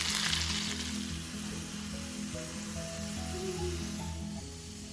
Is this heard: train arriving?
no